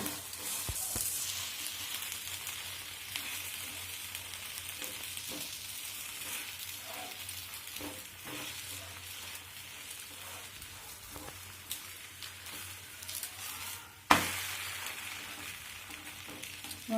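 Roti frying and being flipped in a hot pan, a steady soft sizzle running throughout with a few light clicks and one sharp knock near the end, no talking.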